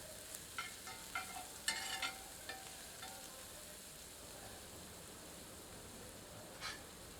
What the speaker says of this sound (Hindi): अब उसी पैन में बचे हुए घी में बारीक कटी हुई प्याज सम्मिलित करते हैं।